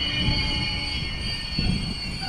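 Train rolling through Warszawa Toruńska station in Warsaw, a steady rumble with wheel squeal and a couple of heavier low thumps from the cars, close by and continuous, with no talking.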